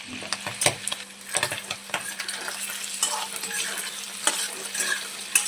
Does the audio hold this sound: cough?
no